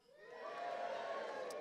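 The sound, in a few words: dinner audience cheering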